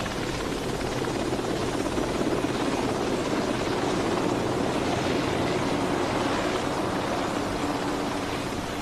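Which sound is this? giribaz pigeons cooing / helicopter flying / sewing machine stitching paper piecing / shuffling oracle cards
helicopter flying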